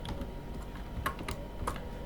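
Keys tapped on a computer keyboard during setup of a custom Vantage build, a few scattered clicks over a steady background hum, fairly near and moderately quiet.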